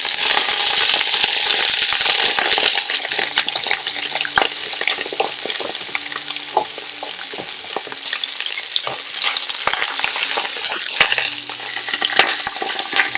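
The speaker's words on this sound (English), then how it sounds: "I'm going to add in the broccoli and carrot because they take the longest to cook." Broccoli and carrot pieces stir-frying in hot oil flavored with ginger and golden-browned hot pepper, a loud, steady sizzle with scattered crackles and pops and occasional scraping stirs, close up with no talking.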